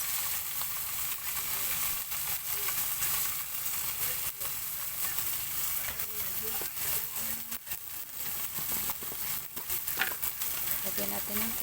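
A single fresh tomato fries in a pan at home, a steady loud sizzle and hiss with faint stirring scrapes throughout.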